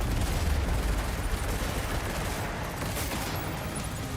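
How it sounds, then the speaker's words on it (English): Heavy machine gun in Death Stranding 2 firing in a dense, continuous burst, loud and close, a sustained roar of rapid shots with no talking over it. "Heavy machine gun."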